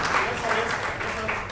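An audience at an open-mic poetry event claps in a brief burst of applause, dense and fairly close, blending with a voice speaking at the same moment.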